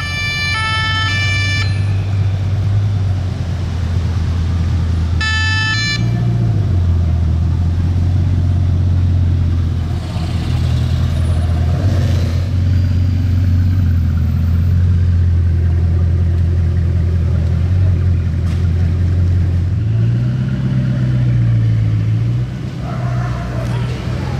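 A Bugatti Chiron hypercar driving with escort cars close behind: a loud, steady engine drone that rises and falls in pitch, with brief sharp whines at the start and again a few seconds later.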